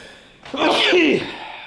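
A single sharp sneeze, close and fairly loud, with a quick breathy intake before the burst, in a garage where a KamAZ truck is being repaired.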